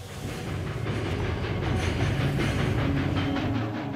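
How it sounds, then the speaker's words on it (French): A train rumbles past on a single track in Tasmania, Australia, with rhythmic clickety-clack from the wheels over a steady, close roar. "2 trains circulent sur la même voie, mais en sens opposé."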